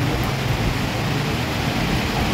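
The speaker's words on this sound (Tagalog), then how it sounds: "Lakas ng ulan kanina, lakas. Ngayon maambon." Steady, hissing rainfall fills the air as an even wash of light drizzle during Typhoon Crising in Canlaon City, Negros Oriental, with no other sounds standing out.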